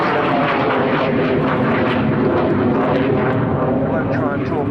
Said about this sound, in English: I won't try and talk over those two Avon engines